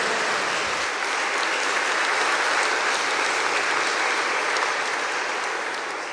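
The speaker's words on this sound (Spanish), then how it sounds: "Fuerte, fuerte los aplausos a San José." A large church congregation applauds continuously and loudly during a Mass, a dense wash of clapping that holds steady for several seconds before starting to fade.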